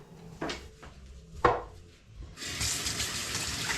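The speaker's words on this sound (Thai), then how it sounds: "ล้างมือก่อนเดี๋ยวไปช่วยเขาทำนิดนิดหน่อยหน่อยค่ะ" Tap water runs in a home kitchen sink for hand washing, starting after a few soft knocks and handling noises and then a steady, close splashing hiss that continues to the end.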